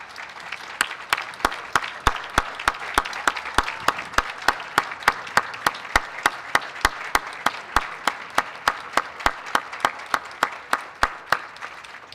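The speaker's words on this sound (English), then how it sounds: "please rise so we can all give you a round of applause" An indoor crowd at a 2021 commencement ceremony applauds steadily for about twelve seconds. Sharp individual claps stand out over the dense clapping, and nobody talks.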